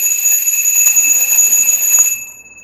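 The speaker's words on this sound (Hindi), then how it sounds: "रिमोट से मोटर चालू हो जाती है और ये घंटी ऐसे बजने लग जाती है।" A motorized bell, switched on by a remote, rings rapidly and continuously for about two seconds, loud and close, then cuts off, leaving faint room noise.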